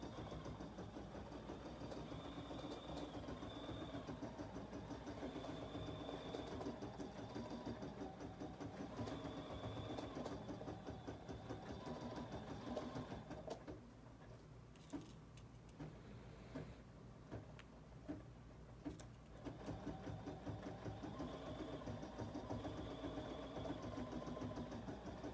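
A BERNINA embroidery machine stitches a garden flag, giving a steady, continuous mechanical motor hum with a fast rhythmic needle chatter. It runs close and fairly loud throughout, with a brief drop in texture midway before the stitching resumes.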